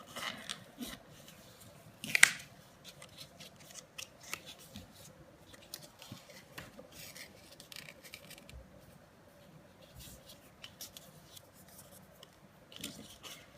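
Scissors snipping off a worn paper craft punch piece, one sharp close cut followed by quiet rustling and soft handling of paper bits.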